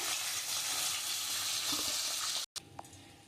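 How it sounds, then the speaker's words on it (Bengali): A katla fish head drops into hot oil and sizzles loudly and steadily for a couple of seconds, then cuts off abruptly, leaving a few faint crackles and pops. "তেলটা গরম হয়ে গেছে আমি এবার দিয়ে দিচ্ছি মাছের মাথাটা"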